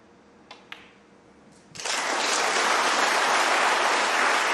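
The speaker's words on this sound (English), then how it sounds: "A justified round of applause." After a couple of faint clicks, a snooker arena audience bursts into sustained applause that holds steady and loud.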